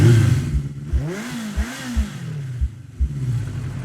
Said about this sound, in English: let's start revving that engine.